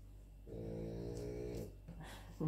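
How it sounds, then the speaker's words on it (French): A single drawn-out snore from a sleeping dog, low and rumbling, close by in a quiet room, followed by a faint shuffle. "Donc vous allez entendre des ronflements"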